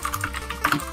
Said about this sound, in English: Just so that we can listen to your keyboard a little bit more.